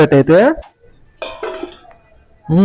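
A lid set onto a cooking pot of prawn and okra curry gives a short metallic clatter between stretches of nearby talking.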